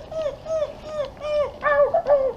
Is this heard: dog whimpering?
yes